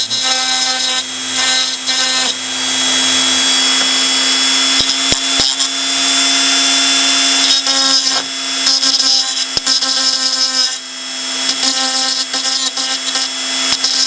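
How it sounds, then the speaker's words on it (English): A Dremel rotary tool files down the chassis of a damaged 009-scale NGG16 Garratt model locomotive. It makes a loud, high-pitched grinding whine in several bursts, with brief pauses and sharp clicks between passes, and no voices. "My only other option was to use a Dremel and gradually file down the chassis to get the best fit"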